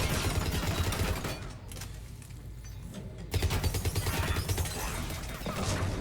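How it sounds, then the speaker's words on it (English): Dense enemy gunfire in a Mass Effect 3 multiplayer match, rapid overlapping shots and impacts rattling continuously and loudly, with a brief lull in the middle before the barrage resumes. "That guy's shooting us from behind."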